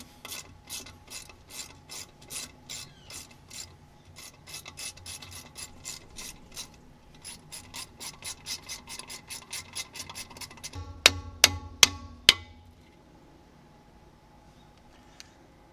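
Ratchet wrench turning out two 10mm bolts on the brake drum backing plate of a 1995 Toyota HiAce, a rapid run of close clicking bursts followed by a few louder metallic knocks.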